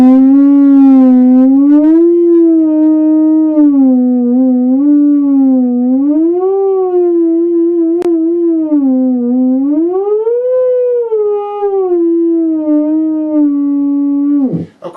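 A theremin plays a song in one continuous, loud, pure wavering tone, gliding smoothly between notes with a constant vibrato, alone with no talking.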